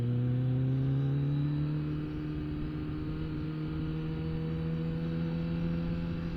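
A car cruises at highway speed, a constant low engine drone with rising harmonic tones and a broad layer of wind rush, steady and moderately quiet from inside the cabin, with no voices.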